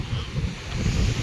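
Sea surf rolling in and washing ashore at the beach at Somnath, a steady low rumble of water with wind buffeting the microphone throughout.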